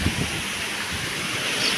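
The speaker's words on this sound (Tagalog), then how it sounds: "Ang lakas ng hangin." Strong wind roars steadily against the microphone, a dense, rushing buffet with no voices over it.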